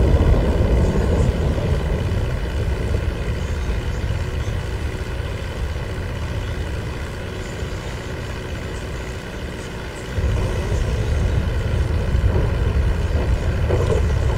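Low-flying airplane in Grand Theft Auto 5 Online, a steady loud engine drone with propeller-like hum that holds throughout, dipping slightly then swelling back up near the end.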